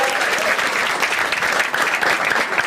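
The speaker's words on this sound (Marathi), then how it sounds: "एकदा टाळ्या वाजवा तिच्यासाठी सगळ्यांनी" Crowd at a standup comedy crowd-work show breaks into loud, dense applause, a continuous roar of clapping from many hands lasting the whole moment with no voices over it.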